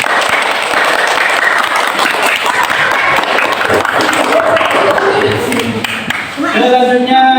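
Classroom applause from students after a group presentation during a teaching performance assessment, a dense, steady clapping texture lasting the whole stretch, with some voices mixed in near the end.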